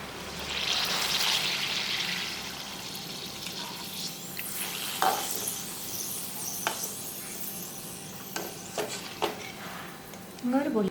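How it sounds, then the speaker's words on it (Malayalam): Filled banana snacks fry in hot oil with a continuous, close hiss of sizzling, louder at first, then steadier. Occasional sharp clicks and taps of a utensil stand out against the bubbling. "ഇനി നമുക്കിതൊന്ന് ഫ്രൈ ചെയ്തെടുക്കാം"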